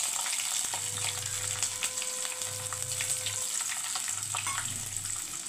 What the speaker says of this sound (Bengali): হিং ফোড়নে দিলাম, তার সাথে দিয়ে দেবো এই রসুন কুচিটা।